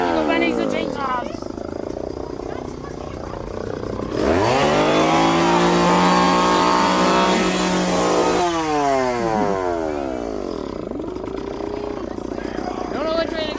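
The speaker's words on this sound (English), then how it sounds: "Go find these chainsaws." Chainsaws revving inside a haunted house attraction, a loud buzzing engine roar that climbs and falls in pitch, swelling to a sustained high rev midway, with screams and voices around it.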